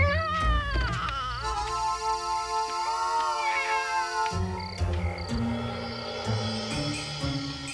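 Busy, layered background of cartoon music and effects with a cat meowing several times, whiny tonal cries rising and falling.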